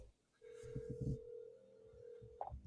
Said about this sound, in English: Can you hear that? The ringing?